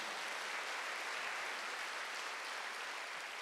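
Congregation at a Korean church Sunday worship service clapping together, a dense, steady wash of many hands held at an even level throughout, fairly distant and with no voices.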